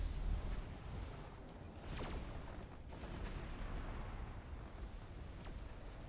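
Armies clashing with missiles in the Mechabellum strategy video game, a dense continuous wash of distant explosions and artillery-like bursts, fairly faint and steady throughout with no talk.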